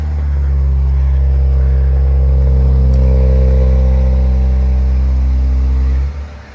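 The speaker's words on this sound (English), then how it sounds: "Oof, and that's a proper cold start too." A 2023 Nissan Z Performance with manual transmission cold-starts and holds a loud, deep, steady idle rumble close by, then the engine note drops away abruptly near the end.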